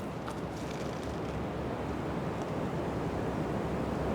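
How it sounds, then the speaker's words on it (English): Wind swirls over a woodland carp fishing pool in spring, a constant broadband rushing and buffeting noise close to the microphone, fairly loud and unbroken, with no voices. "The wind is doing some weird things. It's swirling from all sorts of directions"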